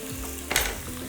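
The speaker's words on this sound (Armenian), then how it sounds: "մինչ սոխը տապակվում է" Onion fries in a pan with a continuous close sizzle, broken midway by a brief louder hiss and clatter, with no one talking.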